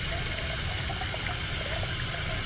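Hot water running from a tap in the bathroom of a 2025 Highland Ridge Open Range 3X 390TBS travel trailer; a steady, loud, broadband rush of flowing water, continuous and close with no talk over it.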